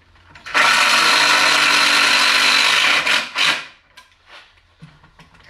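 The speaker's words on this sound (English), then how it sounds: "Get one more screw in here." Power drill driving a screw into a wooden craft table, a loud close whirring burst lasting about two and a half seconds, then a couple of short revving pulses followed by quiet handling knocks.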